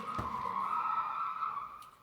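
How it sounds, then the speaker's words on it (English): Cars racing through a residential neighborhood outside, a sustained tire squeal ringing steadily for about two seconds, heard at a moderate distance and with no talking. "Sounds like they're racing cars in their neighborhood."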